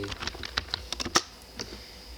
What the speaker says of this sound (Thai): ผมจะพิมพ์ว่า a u r a นะครับ